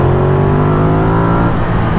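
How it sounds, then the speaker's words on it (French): A motorcycle engine revs and accelerates loudly up close, a strong harmonic roar with steady pitch that shifts slightly as it pulls, heard alone without talk. "Le son de chaque accélération et le frisson du moteur."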